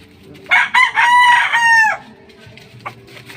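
A rooster crows once nearby, loud and clear for about a second and a half, followed by quieter background sounds.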